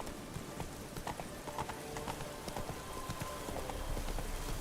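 A horse's hooves clip-clop steadily in The Witcher 3, a continuous rhythmic trot over a rain-like background hiss.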